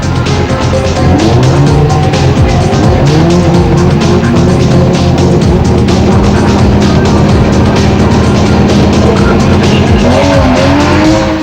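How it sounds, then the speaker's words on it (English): A loud drag race car engine roars and revs continuously at the start line, with rising and falling pitch sweeps and some tire squeal, close and dominant throughout. "Red Cobra was revving at the start line on his quest to reach the final"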